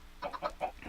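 Chickens in the Minecraft video game cluck in a quick run of four or five short, close clucks over a faint background hum.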